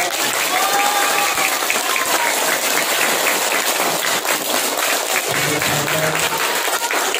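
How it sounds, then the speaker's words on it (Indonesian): Loud, continuous hand clapping from a school audience at an elementary school Maulid Nabi celebration, a dense steady roar of applause with faint voices and cheers mixed in throughout. "ayo semangat dan tepuk tangan."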